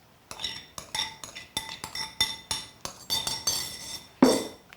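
Poppy seeds and wheat mixed in a bowl for Ukrainian kutia, a spoon clinking against the bowl in a steady series of bright taps, close and fairly loud, ending with one heavier knock.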